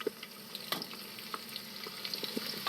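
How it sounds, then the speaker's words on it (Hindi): Onions frying in a spiced masala for chana dal give a steady, low sizzle with scattered crackles and a few sharp clicks. No voices are heard over it. "अब मैं इस मसाले को 1 मिनट के लिए भूनूंगी"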